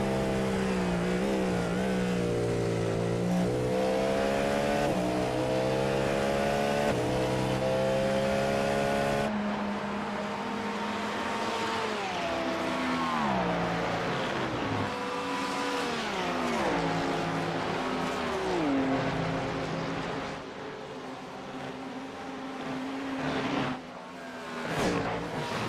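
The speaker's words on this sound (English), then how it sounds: "take a minute here and just listen to the sound of this car." A race car engine in the iRacing simulator during a nine-hour endurance race at Watkins Glen, loud and continuous, its pitch climbing and falling through repeated gear changes and revs, with a brief lift toward the end and no commentary.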